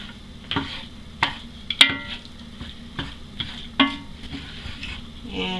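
Macaroni being mixed with soy chorizo in a pan, a spoon scraping and knocking against the pan in a few distinct strokes over a soft, steady sizzle close by.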